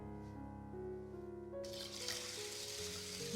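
Soaked rice being washed in water for dosa batter, with sloshing and pouring water starting partway through over a steady tonal background hum or music.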